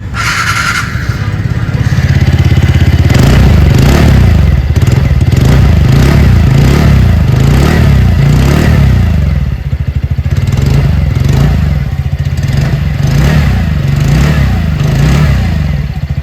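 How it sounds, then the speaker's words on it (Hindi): A 2026 TVS Ntorq 125 Race Edition scooter engine idles and revs up, a loud, buzzing exhaust note holding steady with a few throttle blips and a rattly edge. "आइए अभी सुन लेते हैं इस स्कूटर की एग्जॉस्ट नोट।"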